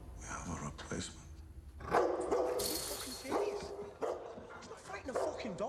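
Dog barks and yips come in scattered bursts, fairly close, mixed with people talking in a tense scene.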